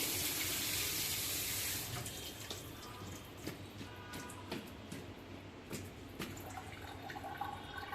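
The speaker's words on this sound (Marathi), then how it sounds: "स्वच्छ पाण्याने आपण धुवून घ्यायचं" Tap water runs steadily over a red pumpkin being washed in a sink, a loud rushing stream for the first two seconds, then a softer splashing flow with scattered drips and knocks as the pumpkin is handled.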